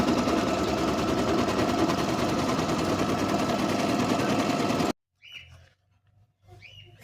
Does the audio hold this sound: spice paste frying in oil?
no